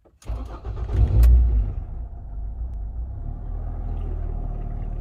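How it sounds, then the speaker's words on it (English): A Ford ST car is started up: a brief starter crank catches into a loud rising rumble, then settles into a steady low idle that carries on to the end, with no talking. "And actually, to test this, I need to turn the car on."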